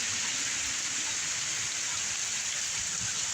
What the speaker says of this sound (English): This has been the first thunderstorm we've gotten in probably about a month